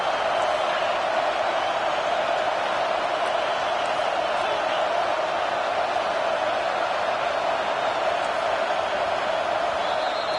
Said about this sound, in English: they try to quiet this raucous, crazy crowd